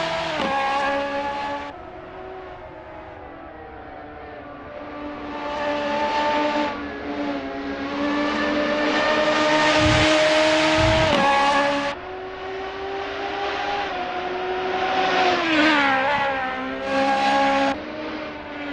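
Radical race cars lapping Mugello circuit during an endurance championship race, engines roaring loud and close with rising and falling revs as cars pass and shift, a sustained high-pitched whine over about eighteen seconds.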